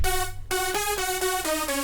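A dry progressive house synth lead with no effects plays a short run of evenly spaced, bright tonal notes, steady and moderately loud, with no reverb or echo tail.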